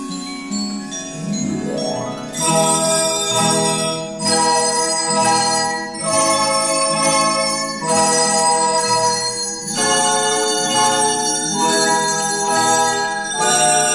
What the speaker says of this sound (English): In other words, it was drums, cowbells, vibraphones, glockenspiels, and more.